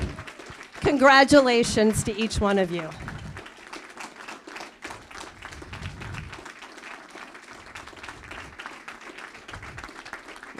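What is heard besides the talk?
audience applause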